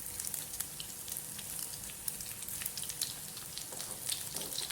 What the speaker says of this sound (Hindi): ये जितना आप मुनासिब आग पे रखेंगे उतनी अच्छी फ्राई होंगी